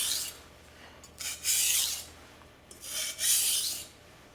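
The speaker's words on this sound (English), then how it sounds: "Gonna do one pass on each side here, and then we'll do a zoop zoop to break the burr off." A knife is drawn twice across a sharpening stone to break off the burr, two distinct, close rasping strokes separated by a brief pause, with no talking.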